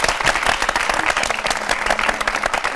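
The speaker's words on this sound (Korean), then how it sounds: "박수 한 번 해드자니까" Applause from a church congregation at a youth worship service, brisk and moderately loud clapping with sharp individual claps audible in the mix, continuing without pause.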